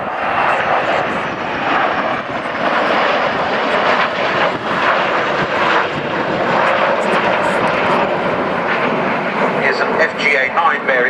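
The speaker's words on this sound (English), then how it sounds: "The lead aircraft is a Hunter T7, a 2-seat version of the aircraft conversion" Hawker Hunter jets, including a two-seat Hunter T7, fly past at a 2010 naval air station airshow, a loud continuous engine roar that swells and holds, with a public-address commentator talking over it.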